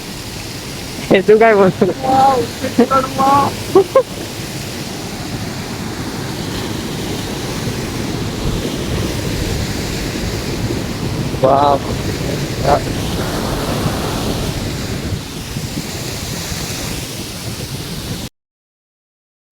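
Fast-flowing water in a strong current rushes as a constant broadband roar in cool open-air surroundings. Excited voices break in briefly near the start and again midway.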